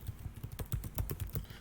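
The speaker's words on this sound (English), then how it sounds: "Oh, that's bad typing." Quick typing on a computer keyboard, a rapid run of close, crisp key clicks in an irregular rhythm, heard alone without voices.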